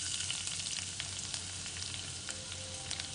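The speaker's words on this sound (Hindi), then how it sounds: "ऑयल हीट हो गया है, अभी गार्लिक डालूँगी" Chopped garlic sizzles in hot oil for veg Schezwan fried rice: a soft, even frying hiss scattered with small crackles and pops.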